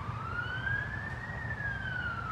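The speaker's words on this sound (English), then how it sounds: "It doesn't hurt that there are sirens going by, police and ambulances going by" Police and ambulance sirens pass by outside a sukkah, a steady rising and falling wail over a dense rumble of city traffic, fairly distant and continuous.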